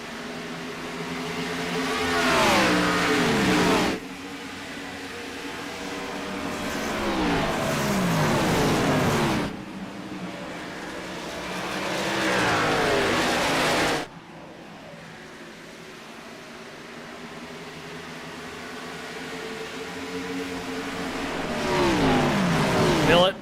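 Gen 6 Cup Series stock cars race at Nashville in a video game, engines whining and revving up through gears in repeated rising sweeps, each cut off abruptly before building again.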